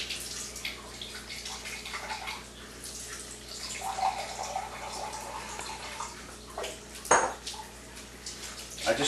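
Water from an Enagic Leveluk SD 501 ionizer pours steadily into a cup, a quiet continuous splashing and trickling with one brief clatter near the end.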